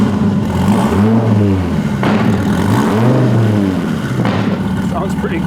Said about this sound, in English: I'm gonna start it up and hear what that custom exhaust sounds like